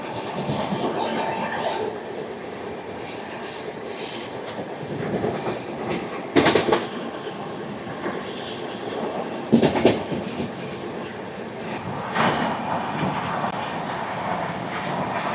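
Train passing straight through Dwarpudi railway station without stopping, a steady loud rumble of carriages with rail clatter and brief sharper bursts as it rolls along.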